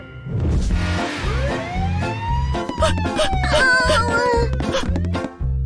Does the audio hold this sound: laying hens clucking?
no